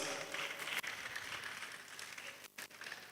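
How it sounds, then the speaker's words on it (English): Quiet, distant applause from a film festival audience encouraging an honoree as she walks upstage, a soft continuous patter of many hands with a brief dip partway through. "keep encouraging her with your applause"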